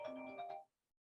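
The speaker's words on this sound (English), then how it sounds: "my phone is ringing there." A mobile phone ringtone plays a short melodic tone sequence, clear and fairly close, then stops abruptly, leaving silence.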